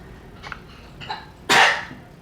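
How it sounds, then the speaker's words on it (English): A small dog gives a few soft hacking sounds, then one loud, harsh cough-like heave as it brings up a hairball, close by in a quiet room. "I have a little doggy that I'm watching right now who had a hairball or something."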